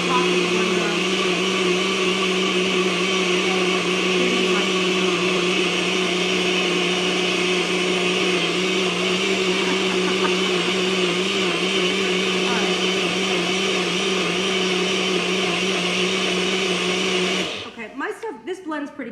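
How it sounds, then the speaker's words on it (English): A Super Bullet blender crushes ice for a banana cream pie protein shake, a loud, steady motor whine that holds for about seventeen seconds and then cuts off abruptly, leaving a brief clatter. "This blends pretty quickly because I have a super bullet and I have good ice"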